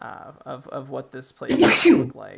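A single loud, sharp sneeze bursts out just after a person speaks during a tabletop role-playing session, close to the listener.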